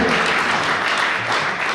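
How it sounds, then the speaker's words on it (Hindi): Audience at an all-India Hindi poetry gathering (kavi sammelan) bursts into sustained, dense applause, a steady roar of many hands clapping close by, with no pause through the moment. "मेरा मन है कि उनके इस बड़े मन के लिए एक बार पूरा सदन जोरदार ताली से।"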